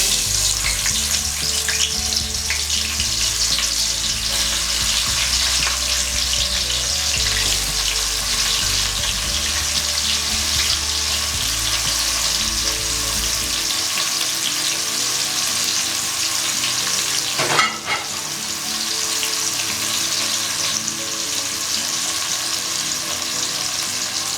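Onion frying in hot oil in a pan for a fish stew, a loud, steady, dense sizzle held close throughout, with a brief stirring clatter partway and no talking.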